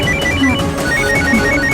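A telephone rings with a steady electronic ringtone, a short repeating warble that is clear and close, with no talking over it.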